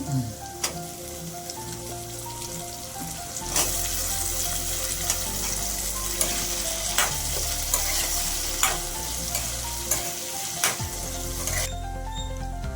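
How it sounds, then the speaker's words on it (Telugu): Drumstick pieces (munakkaya) frying in a curry pan, a loud continuous sizzle with repeated metallic stirring scrapes and clinks close by. "సార్ ములక్కలు వేస్తున్నాం, మగ్గుతాయి కదా"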